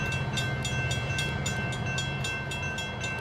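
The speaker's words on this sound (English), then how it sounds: "there is a train coming that way." Train rolling past in the Rolling Line model railway game, a steady rumbling drone with evenly spaced rhythmic clicks from the wheels and a faint high tone, continuous throughout.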